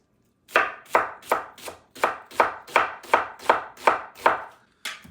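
Knife chopping red onions on a cutting board for guacamole, about eleven crisp, evenly spaced strokes in a steady rhythm, close and clear with no voices.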